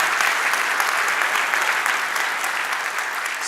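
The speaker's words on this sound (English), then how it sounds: "let's give them a round of applause" A crowd at a live flight simulator expo presentation breaks into applause, a steady, dense wash of clapping that holds loud and even throughout.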